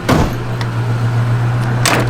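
A 1989 Ford Mustang GT convertible door swinging shut with a single solid, close thump, followed by a low steady hum and a second faint knock near the end.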